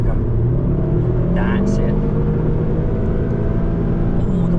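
Car accelerating hard on the Nürburgring Nordschleife, a steady loud engine drone rising under gas with an instructor's voice talking over it throughout.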